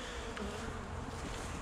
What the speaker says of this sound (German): Da habe ich jetzt locker 10 Stiche gerade kassiert von dem Bienenvolk.